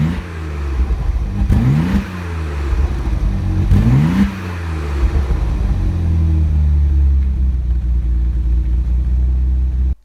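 A 1990 Lotus Carlton's twin-turbocharged 3.6-litre engine revs hard, two rising surges, then settles into a loud, steady rumbling drone up close with no talk.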